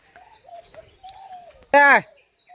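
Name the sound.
birds chirping in the morning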